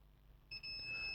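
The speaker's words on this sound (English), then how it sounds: "This is beeping because it's ground." A thin, high multimeter continuity beep, testing a laptop motherboard charging port to ground, starts halfway through and holds steadily, faint against quiet background hiss.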